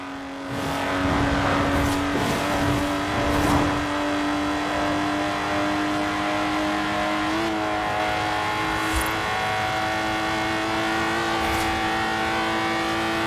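Lotus Exige engine in Forza Horizon 4, a loud steady high-revving drone with shifting gears early on, occasional light tire noise, continuous and close with no talking.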